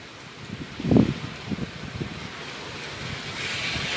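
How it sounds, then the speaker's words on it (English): Gusty wind rushes through a heavy rainstorm, with one louder burst early on and a steady roar of rain and rustle continuing underneath. "Oh, that wind blowing. Y'all hear that?"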